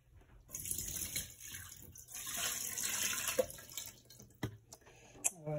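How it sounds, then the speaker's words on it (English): Water runs from a kitchen tap into a cooking vessel for a French Hungarian sauce, a steady hissing stream with a few clinks and knocks near the end. "let me get some water into this."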